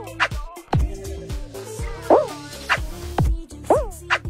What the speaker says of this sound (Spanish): perro